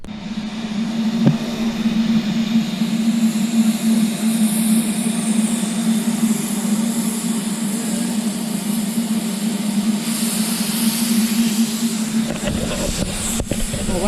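A steady hissing roar with a sustained low hum runs throughout, like a steam locomotive passing close by, with a brief sharp clank near the start.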